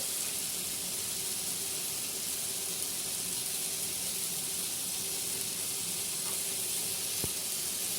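Garlic sizzling in a pan on low flame while making tomato gravy, a steady close hiss of frying oil running throughout with no talk.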